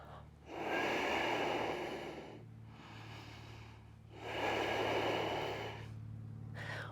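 Slow, deep breaths during a yoga pose, two long airy inhale-exhale cycles close to the microphone over a faint low hum, with no talking.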